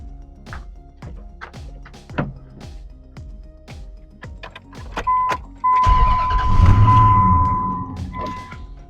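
A 2003 Dodge Ram with the 4.7L engine, which has a stalling fault, gives a series of sharp rhythmic clicks and thunks. The engine then catches and settles into a loud, rough running rumble close by.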